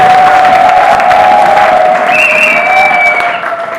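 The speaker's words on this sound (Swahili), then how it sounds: "Pigie Bwana Yesu makofi na vigelegele" Loud church congregation claps and cheers, with high sustained ululation trilling over dense clapping and crowd noise, close and energetic throughout.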